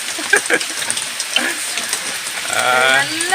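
Rain pours at a budget resort in Wayanad, a soft, even hiss of falling water with brief voices talking faintly over it.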